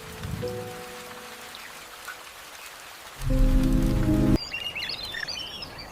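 Rain falling on a mangrove island over a dark water channel, a steady soft patter with a brief louder burst midway, joined near the end by faint bird chirps in the distance.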